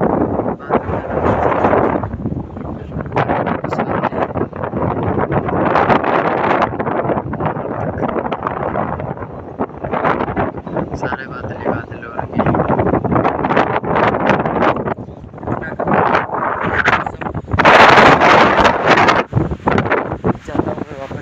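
Very strong wind roars and buffets hard against the microphone throughout, in surging gusts with a loud burst near the end. It sounds high up on a hill among clouds, and someone talks intermittently under it.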